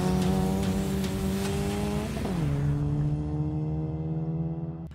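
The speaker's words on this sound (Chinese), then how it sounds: "我们可以看到郑哥的轮胎已经完全脱下来了，他现在是一位三轮车手，他是要用钢圈去跑完整场比赛吗？" A race car, a Honda Fit in a circuit race, keeps running on a bare steel wheel rim after a tire has come off. A loud, steady engine drone drops in pitch midway as the car presses on.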